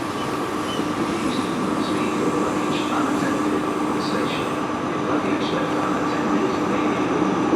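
A Great Western Railway train at Plymouth station, a steady loud rumble and hum from the train filling the station, constant throughout with faint clicks above it.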